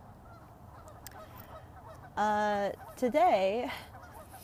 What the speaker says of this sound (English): that's where I found all the geese. You'll probably hear them squawking.